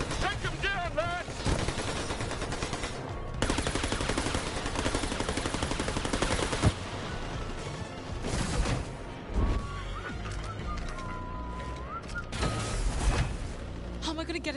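Gunfire in the game New Tales From The Borderlands, dense rapid bursts and crashes throughout, with voices shouting in the middle of the firefight.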